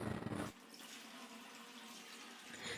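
Tap water runs steadily into a sink while fish is rinsed and cleaned in a home kitchen, a continuous close splashing hiss with no talk.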